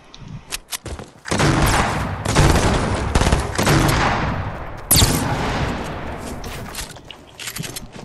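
Fortnite gunfire: bursts of rapid shots with a few sharp single cracks, loud and close, broken by short gaps and trailing off near the end.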